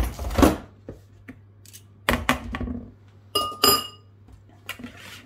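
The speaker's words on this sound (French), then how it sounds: "on retire les fouets" Metal whisk beaters clinking and knocking as they are pulled from an electric mixer while making a chocolate cake, a few sharp separate clanks and rattles with short gaps, close and fairly loud.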